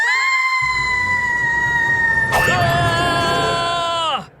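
Cartoon character Kitty lets out a long, loud, high-pitched scream that holds steady for several seconds, then bends and cuts off abruptly, heard over a dense rumbling background.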